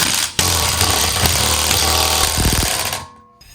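An impact wrench works the 17 mm lug bolts on a MK6 Jetta SportWagen TDI, giving a loud, continuous hammering buzz for about three seconds before cutting off abruptly, with no talking.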